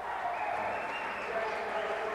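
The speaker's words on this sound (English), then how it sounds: "Nice to hear the crowd appreciating what he's done." A crowd applauds steadily at a 1992 Pan-American Championships 62 kg freestyle wrestling match, a continuous wash of clapping from the arena under a commentator's voice.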